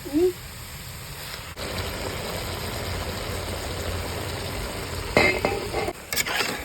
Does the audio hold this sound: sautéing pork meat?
yes